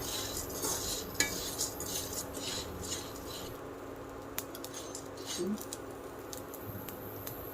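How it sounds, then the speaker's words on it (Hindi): Edible gum (gond) dry-roasted in a pan for laddus, stirred continuously with a spoon, giving soft scraping and faint clinks against the pan over a low steady background, with no talk. "इसे कंटिन्यू चलाते हुए हम मिलाएंगे, नहीं तो ये गोंद जो है जल सकती है।"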